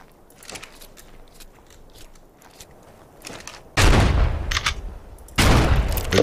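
Gunfire in the video game ARK: Survival Evolved, two loud, sustained bursts of rapid shots after a quieter stretch of scattered clicks and faint pops.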